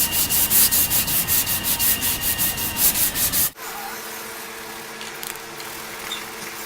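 Rapid rhythmic rasping of sandpaper rubbed back and forth across a wood edge, cross-sanding to feather it, for about three seconds, then it stops, leaving a quiet room hum.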